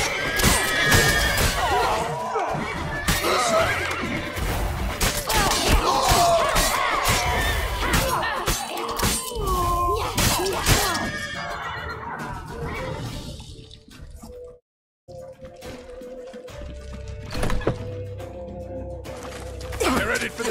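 A horse whinnies loudly several times during a chaotic scene in The Witcher 3: Wild Hunt, mixed with clip-clopping hooves, shouting voices and crowd commotion, then the noise briefly drops away before resuming.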